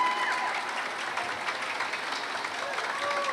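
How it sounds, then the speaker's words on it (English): Steady applause fills a mayor's press conference for Women Against Abuse, a dense wash of clapping from the audience that holds evenly throughout. "Let's give her a round of applause, please."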